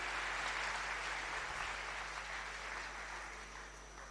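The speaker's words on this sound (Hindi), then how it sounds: "बहुत सुंदर प्रस्तुति के लिए पुनः हम तालियों के माध्यम से आपका धन्यवाद करेंगे" An audience at a media conference reception in Shantivan, Abu Road, Rajasthan, applauds a performance with a steady, soft wash of clapping that slowly fades over a few seconds. It is heard alone, without voices.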